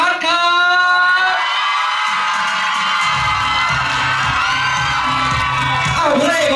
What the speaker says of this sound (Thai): เริ่มกันที่ขอเสียงกรี๊ดดังๆ